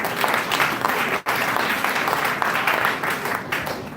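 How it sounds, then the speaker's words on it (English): A seated audience at a college leadership author talk applauds steadily, dense sustained clapping filling the room with one brief dropout partway through. "Can we have a round of applause?"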